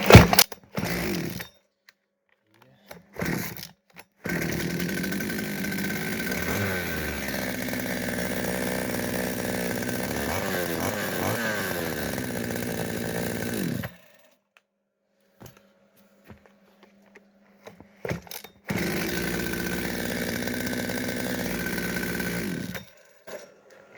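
A Kitprom petrol chainsaw sputters through brief starts, then runs loud and steady for about ten seconds with revving, cuts out, and roars again near the end, with short silent gaps between attempts.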